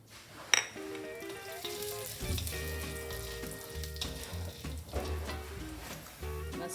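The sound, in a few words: urad dal frying in gingerly oil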